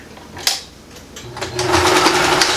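Sewing machine running a straight stitch through recycled denim jeans for a sling purse, a short burst followed by a louder, steady mechanical whir that builds and holds near the microphone.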